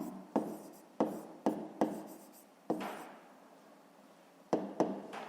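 A pen scratches across paper while a fifth-grade math exercise is written out by hand, in about seven distinct strokes separated by short pauses and one longer gap.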